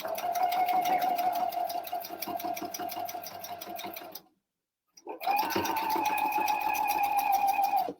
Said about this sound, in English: when I'm doing this, I'm kind of sewing like this so you guys can see